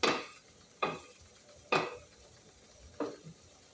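Spoon stirring bean stew in a cooking pot: four sharp, faint clinks and scrapes spaced about a second apart, with quiet gaps between them and no talking.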